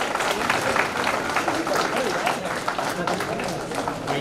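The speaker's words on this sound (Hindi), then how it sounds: "महानुभावों से निवेदन है कि तालियां बजाएं।" Crowd at a Rajasthan ceremony marking a state minister rank applauds continuously for about four seconds, a dense, moderately loud patter of clapping that may have some speech beneath it.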